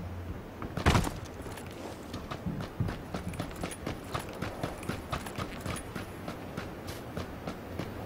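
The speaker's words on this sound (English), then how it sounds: "I got footsteps." Footsteps in the video game PlayerUnknown's Battlegrounds, a steady series of quick, fairly faint rhythmic steps after a louder thump near the start.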